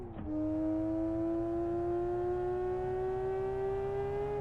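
Car engine in the Live For Speed racing game holding a steady, loud drone whose pitch climbs slowly and evenly as it revs, continuous throughout with no talk.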